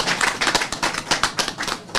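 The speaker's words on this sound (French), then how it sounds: "Je voudrais que toute l'assistance les applaudisse." An assembled audience at an official handover ceremony claps in brief, dense bursts of many hands, with rapid overlapping slaps close and loud.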